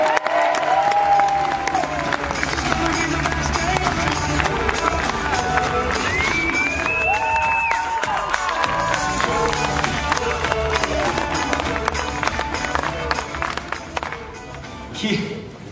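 A crowd applauds and cheers loudly to welcome a speaker at a business presentation in Lyon, dense sustained clapping with whoops and music over it, fading near the end.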